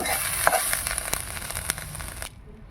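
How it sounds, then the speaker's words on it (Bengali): Small shrimp fry in a pan with a loud, dense, crackling sizzle up close, with a few stirring scrapes, before the sound cuts off abruptly near the end. "কুচো চিংড়িগুলো দেখো ভেজে নেওয়া হয়ে গেল"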